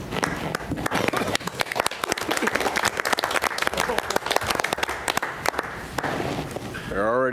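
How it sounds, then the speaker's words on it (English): Sustained audience applause fills a county board meeting room, dense overlapping clapping that stays steady and fairly loud for several seconds before tapering near the end, with faint talk underneath. "They're already applauding for you"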